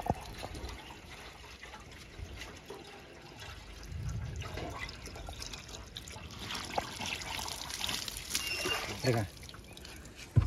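Water trickles and splashes steadily into a tank, a continuous liquid rush with faint background noise and a voice talking at times.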